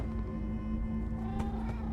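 A cat meows in the video game Minecraft: Story Mode, a soft, brief cry sitting over a steady electronic hum and game background sound.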